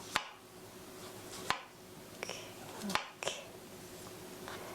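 Knife slicing button mushrooms 0.2 cm thin on a cutting board, a few sharp, spaced chops, close and crisp, with quiet room background and no talking.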